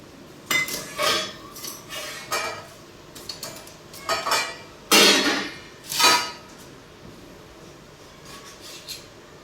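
A knife works through a tomato on a cutting board in a series of irregular scraping and knocking strokes, some short and some drawn out, close up with quiet pauses between bursts.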